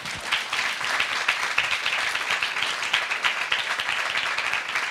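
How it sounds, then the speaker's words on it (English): An audience applauds throughout in a dense, steady burst of many clapping hands, fairly loud and close, with no voices over it. "So please give yourselves a round of applause"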